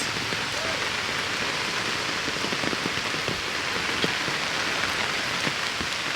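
Heavy rain pouring steadily on surfaces around a guava tree garden, a dense, loud, unbroken hiss with scattered distinct drop impacts close by.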